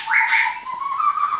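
Young magpie robins at a bird-breeding setup in Klaten give a loud, close whistled call, a single sustained sweeping chirp heard alone without talk.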